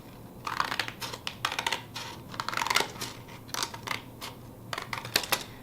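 Scissors snip through paper while a heron-shaped hat is cut out by hand, giving a run of short, crisp cutting strokes in uneven bursts, fairly close and quiet, with no voices.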